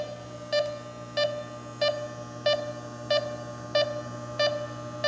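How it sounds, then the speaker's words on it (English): An electronic refrigerant leak detector held near an air conditioning recovery tank emits evenly spaced short beeps, about eight in a row, clear and close over a steady low electronic hum. "Let me get the leak detector close by."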